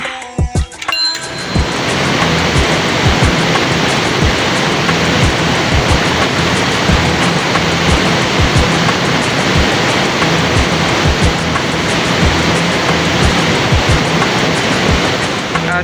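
Hidden waterfall at Koromosho roars steadily close by, a dense unbroken rush of falling water that starts after a brief bumpy moment and then holds loud and even throughout.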